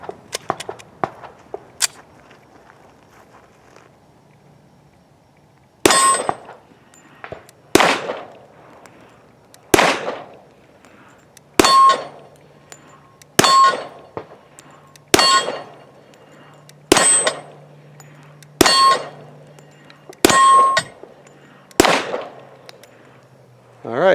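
Sharp, loud shots from a Rock Island Armory Pro Match Ultra 10mm pistol firing Arms Corps ammo at a range, around ten evenly spaced reports, each ringing out with a short echoing tail after a few faint earlier pops.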